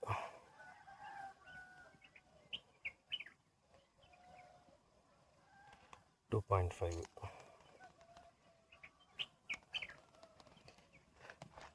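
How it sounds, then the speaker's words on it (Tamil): Distant rooster crows and clucks from nearby fowl sound intermittently on a trip to Yelagiri, with a loud bump partway through and soft chatter in the background. "கோழி கூற சவுண்டு தான் கேட்குது"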